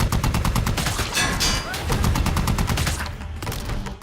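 Rapid bursts of gunfire from several weapons crackle nonstop in dense, overlapping volleys, loud and close, thinning a little near the end.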